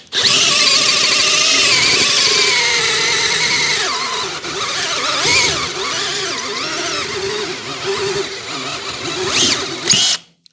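A cordless drill whines loudly and steadily while working on a front A-arm bushing of a TGB 550 quad, the pitch shifting as the load changes, ending with a few sharp bursts and then a stop.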